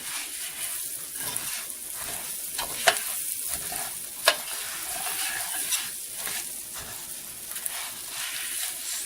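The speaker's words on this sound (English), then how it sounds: "I'm going to fry it all together. try to brown this rice a bit." Rice and broken spaghetti noodles fry and are stirred in a pan, giving a steady soft sizzle with occasional scraping clicks of the spoon, close and fairly quiet.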